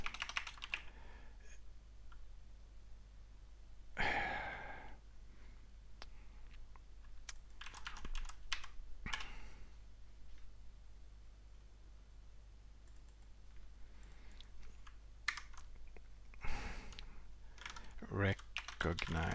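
Computer keyboard typing during live coding work on the curl project, a steady run of quiet, close key clicks in short bursts with a few louder taps, over a low hum, with no talking.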